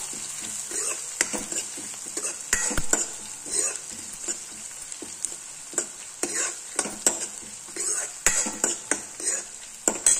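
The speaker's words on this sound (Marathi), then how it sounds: "लसूण टाकूया। त्याला चांगलं परतून घेऊया।" Garlic sautés in a pan of oil for a homemade chana dal usal. A bright, steady sizzle runs under irregular metallic scrapes and clinks as a spoon stirs against the pan, and no one speaks.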